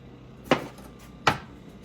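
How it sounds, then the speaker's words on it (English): A knife strikes a cutting board twice while cutting up a jalapeno, two sharp, separate chops about three-quarters of a second apart against quiet room tone. "you can cut up the jalapeno"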